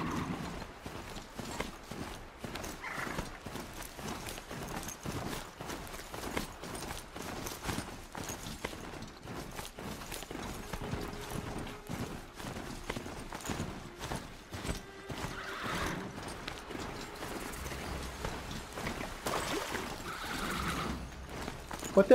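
A horse in the video game Horizon Zero Dawn trots with steady rhythmic hoofbeats over a low, soft game ambience, faint and even throughout with no neighing evident.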